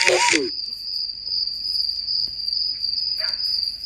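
Steady high-pitched cricket trill rings continuously through a quiet night scene, with a brief burst of other noise at the start.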